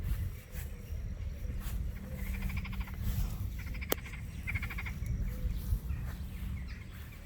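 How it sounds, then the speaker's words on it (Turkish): Frogs croaking in a pond outdoors, repeated rattling croak trains at moderate distance over a steady background of insects and occasional birds. "Dur bir şey fırlatayım da kurbağa olduğu bir kanıtlansın."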